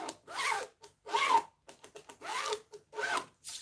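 Zipper on a jacket pocket drawn open and shut several times, close and crisp, each pull a short rasp with small clicks between strokes.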